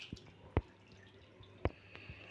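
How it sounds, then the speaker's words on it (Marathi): Rinse water draining off washed sago pearls falls in a few sparse, faint drips with quiet gaps between them in a still room. "साबुदाणा मी 2 वेळा पाण्याने धुवून घेतलेला आहे, पाणी बाजूला काढलेलं आहे"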